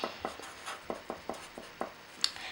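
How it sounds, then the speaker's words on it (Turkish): Colored pens scratching across paper in short, steady strokes, roughly eight distinct scribbles in an even rhythm, close and fairly clear, with no talking over them. "Tamam pembe renkli cici bici yazıyorum."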